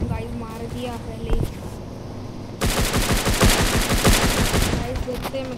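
SCAR gunfire in the shooter game Free Fire: a few separate shots sound first, then a loud, dense automatic burst keeps going. A voice talks over the first part.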